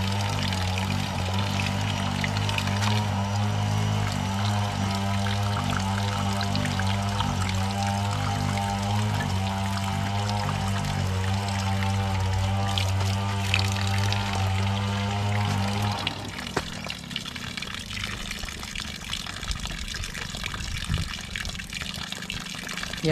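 Water pours and splashes steadily from a homemade deep well pump running without an electric motor in Mindanao, a loud continuous gush under a low mechanical hum that drops away near the end, leaving a thinner trickle.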